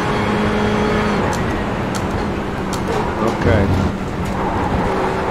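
GT race cars at Daytona in a racing video game, BMW, a pair of Corvettes and a Ferrari, hold a steady droning engine roar throughout, with a passing swell near the middle and a brief spoken word over it.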